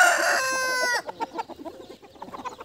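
A Desi rooster on a free-range poultry farm crows loudly and close by, a long drawn-out call, then hens cluck in short, uneven bursts.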